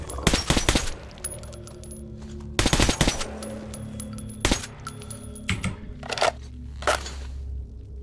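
Bursts of rapid gunfire from the video game Metro 2033 Redux, several short volleys separated by pauses, loud and sharp with metallic clinks between shots.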